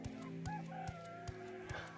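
A pet chicken gives soft, repeated clucks at an even pace, fairly close, against a quiet backdrop of steady regular ticking.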